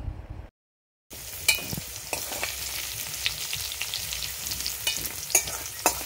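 Vegetables frying in a hot kadai in a home kitchen, a steady crackling sizzle with occasional spatula scrapes and clinks after a brief silent gap at the start; no talking.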